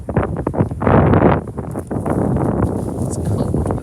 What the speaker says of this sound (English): It's cold but windy,